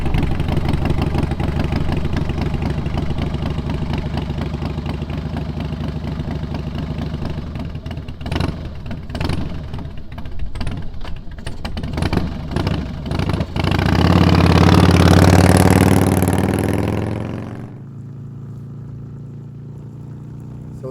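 A restored Harley-Davidson motorcycle engine idles with a steady, deep, loping rumble, gets blipped through a few uneven throttle stabs, then swells into a loud roar before suddenly dropping away near the end.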